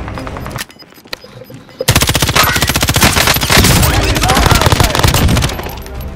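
Automatic weapon fire rattles in rapid bursts in Call of Duty: Warzone on Rebirth Island. A short shot or two comes first, then a loud, sustained stream of shots fills most of the clip before easing off at the end.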